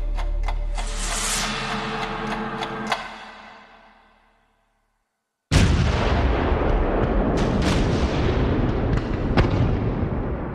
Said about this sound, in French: L'escadre de l'amiral Somerville lâche l'une des plus grandes bordées de canons de l'histoire de la marine de guerre.